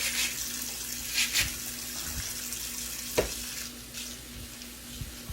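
Kale greens rinsed under a running tap at a kitchen sink, a steady low hiss of water with a few soft splashes and light knocks as the leaves are handled, heard close and alone.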